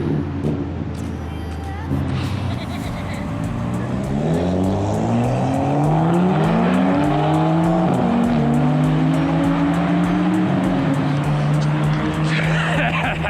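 Cars race at night with loud engines revving up and down through the gears, rising and falling whines, tyre squeal and a steady roar that stays close and dominant throughout.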